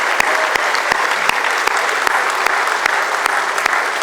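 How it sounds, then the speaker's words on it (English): Applause from a dinner audience at an annual charity fundraising dinner, steady dense clapping filling the room, with a few sharper individual claps standing out, continuous with no talking. "Please give Table 22 a massive round of applause."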